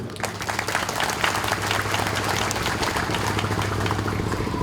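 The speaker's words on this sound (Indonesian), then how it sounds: "Tepuk tangan dulu" An audience at a provincial governor's speech for a Nahdlatul Ulama anniversary gathering claps together for an invited cleric, a dense steady patter over a low hum that fades slightly toward the end.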